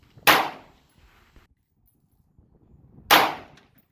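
A Del Ton AR15 rifle fires two sharp shots about three seconds apart, loud and close, each with a short decaying tail.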